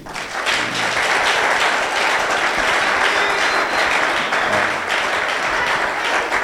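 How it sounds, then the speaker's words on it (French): A church conference audience applauds the pastor with loud, continuous clapping that stays full and even throughout. "Est-ce qu'on peut acclamer pour lui?"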